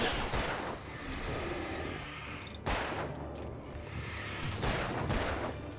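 Gunfire in the video game Alan Wake, loud bursts of rapid shots and booms in a dense, continuous barrage, with brief dips between volleys and no talk.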